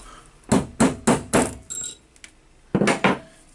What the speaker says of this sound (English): Okay, I will try to knock it.